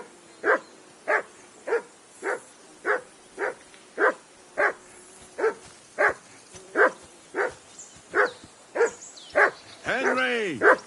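A dog in Kingdom Come: Deliverance II barks in a steady, evenly spaced series of about fifteen loud single barks nearby, with a voice speaking over the end.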